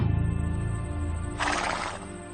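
A horse whinnies in a single, loud, close neigh with a shaky, wavering pitch that rises into a brief, breathy burst near the end, heard alone with no talking.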